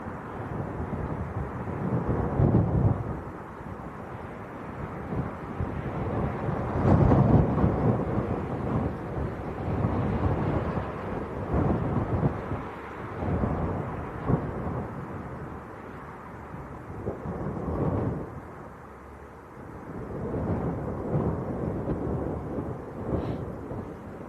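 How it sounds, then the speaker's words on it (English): Gusty wind rushes and buffets a microphone at Leeds Bradford Airport, a loud, continuous low roar that swells and eases in uneven surges with no talk. "Sure if you can hear the wind rushing past. It's very gusty."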